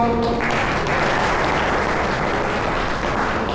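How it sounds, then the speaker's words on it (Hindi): School event audience clapping together, a steady, dense, loud round of applause filling the whole stretch, with a brief voice right at the start. "तालियां एक बार।"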